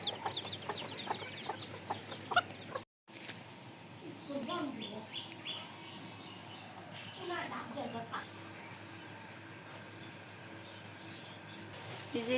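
Backyard chickens clucking and calling after being released in a village garden, scattered fowl calls near and far among birdsong and rustling, with a person talking throughout.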